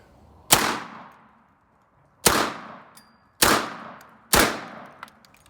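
Four loud, sharp shotgun blasts from an American Tactical .410 AR-15 ring out at uneven intervals, each cracking close by and fading in a short echoing tail, with no talking.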